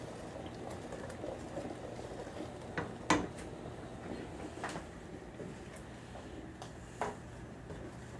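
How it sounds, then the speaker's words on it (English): A berry mixture heats in a pot on a home kitchen stove, giving a steady close bubbling and simmering with a few sharp clicks and pops, and no talking. "And now this has to come to a boil"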